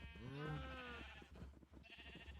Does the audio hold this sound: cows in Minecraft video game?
yes